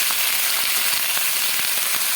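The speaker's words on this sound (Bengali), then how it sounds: "ডাঁটাগুলো আর আলুগুলো একসঙ্গে একটু ভালো করে ভাজবো" Potatoes and vegetable stems frying together in a pan, a dense continuous sizzle with small crackles and pops, close and steady throughout.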